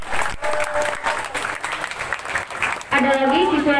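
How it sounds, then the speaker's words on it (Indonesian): Audience applause for three student council candidates at a school debate, a loud burst of clapping filling the hall, with voices mixed in and a brief tonal sound near the end. "Berikan tepuk tangan untuk ketiga paslon."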